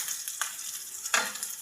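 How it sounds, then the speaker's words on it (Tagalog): Garlic and onion sauté in a pan for adobong sitaw, a soft, quiet sizzle with a couple of brief stirring scrapes. "Ginigisa sa bawang, sibuyas."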